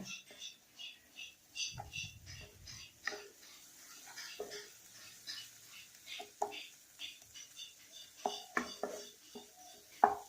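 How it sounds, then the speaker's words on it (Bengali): Spices fry in a pan for Bengali prawn malai curry, heard as intermittent scraping stirs and clinks of a utensil on the pan over a faint sizzle, with soft speech between. "এখন এই মশলাগুলো দিয়ে আমি এটা আরেকটু ভাজা ভাজা করব।"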